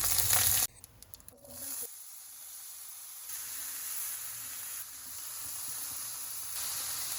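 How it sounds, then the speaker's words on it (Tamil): Mustard seeds, dried chillies, curry leaves and urad dal sizzle in hot oil in a pan: a loud burst at first, then a steady, moderate hiss with faint popping. "பேனில் வந்து எண்ணெய் சேர்த்துக்கிறேன். இதில் கடுகு கொஞ்சமாக சேர்த்துக்கிறேன்."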